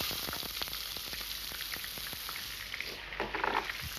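Finely chopped onion fries in hot oil with shahi jeera, a loud, continuous sizzle with crackling spits and a brief stirring scrape near the end, no talk.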